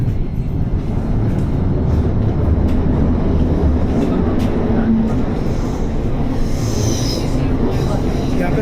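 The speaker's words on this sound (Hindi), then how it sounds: "ये थेम्स लिंक का ट्रेन है।" Inside a Thameslink train travelling through London, a loud, steady low rumble of the carriage fills the space, with faint rail clatter and a brief squeal late on.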